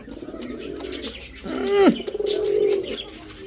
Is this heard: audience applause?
no